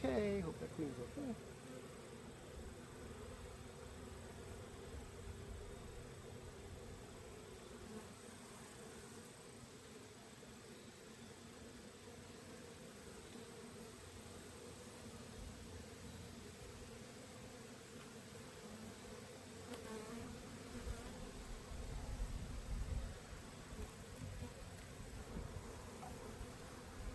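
Honey bees buzz in a steady, dense drone throughout while a mating nuc is consolidated into a box at a bee yard, with faint handling noise of frames and boxes and no talking.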